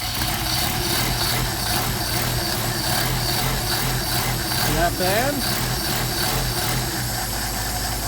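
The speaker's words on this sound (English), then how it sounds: "Now, let's see what we got here in the way of engine start. Got a cold engine." A cold Mercedes 190SL engine on Solex carburetors starting and settling into a steady, rough low idle, loud and close, with a brief voice over it.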